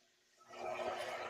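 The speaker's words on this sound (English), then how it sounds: "You heard the sizzle?" A Nigerian stew base poured into a hot pot hisses up after a brief quiet start, swelling into a loud, steady sizzle that fills the rest of the moment.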